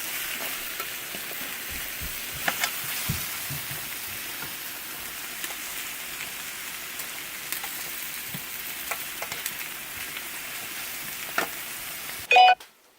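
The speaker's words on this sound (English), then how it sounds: "I'm going to saute the pineapple and the red onions in with some olive oil to get them tender and caramelized" Pineapple and red onions sautéing in olive oil in a pan, a steady soft sizzle with scattered pops and crackles, fairly quiet and continuous, ending with a brief louder clatter.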